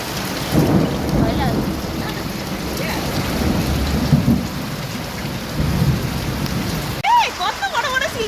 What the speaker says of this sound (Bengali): তবে আমাদের এখানে বৃষ্টি নেমেছে।